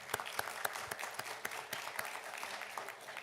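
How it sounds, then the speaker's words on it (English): Audience applause at a community town hall in Wichita, a moderately quiet, dense patter of many hands with scattered sharper claps, heard from a distance. "So give them a round of applause."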